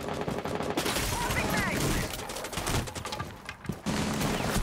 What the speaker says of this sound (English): Hits a few lucky shots there.